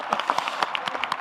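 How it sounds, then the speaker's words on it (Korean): A room of attendees at a public meeting gives a brief round of scattered clapping for the president, a quick patter of individual claps lasting about a second. "우리 대통령님 위해서 한번 박수 한번 쳐드리겠습니다."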